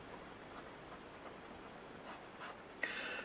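A long, contemporary-style fountain pen nib with some flex scratches steadily across paper, a soft continuous rasp with faint stroke accents, close and quiet.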